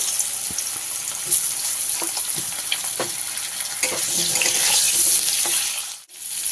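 Potatoes fry in oil left over from frying fish, a continuous close sizzle with scattered stirring clatters that briefly cuts out near the end.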